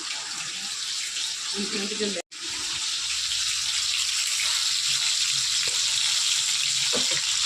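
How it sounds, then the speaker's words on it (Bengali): Puja utensils are being scrubbed under a steady stream of running tap water in a home kitchen, a loud continuous wash of water with brief clinks, while potol frying sizzles nearby and a short break interrupts the flow. "আর আমি চলে এসেছি এদিকে ঠাকুরের বাসন মাজতে।"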